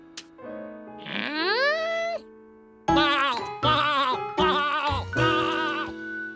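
A sheep bleats once in a long wavering call, then four more loud, harmonic bleats follow in quick succession, close to the listener.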